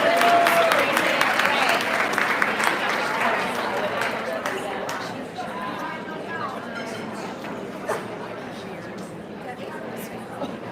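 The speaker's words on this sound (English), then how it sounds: "So let's give one more round of applause to 6th edition for being here." Audience applause at a charity luncheon and fashion show, a loud round of clapping from the crowd that gradually thins and fades, with chatter beneath it.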